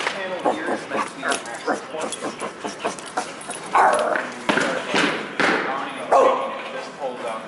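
A dog barking in short repeated yips and bow-wows indoors, close by, mixed with a person talking and some thumps.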